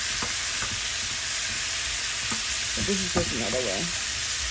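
Vegetables sizzle and fry steadily in a pan on a stovetop, a constant crackling hiss, while a person speaks briefly over it.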